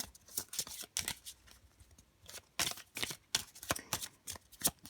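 Classic French playing cards from an 1890-style deck are cut and handled by hand, giving a run of crisp, close papery flicks and riffling bursts in quick irregular clusters, with no voices.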